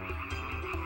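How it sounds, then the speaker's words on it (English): A cartoon frog croaks in a short run of low, throaty pulses, loud and close, set against a steady background tone. "The river Nile swarmed with frogs that invaded everywhere and jumped everywhere."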